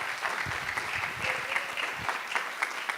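An audience at a dance and politics gathering breaks into brisk applause, a dense patter of many hands clapping at a steady level, with faint voices mixed in.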